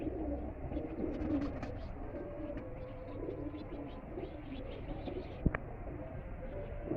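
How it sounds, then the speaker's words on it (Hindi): A pigeon kept at a house in Lahore coos softly and repeatedly against a low rumbling background, with a few faint chirps and one sharp click near the end. "ये है जी उस्ताद वाबस्ता साहब के घर का कबूतर"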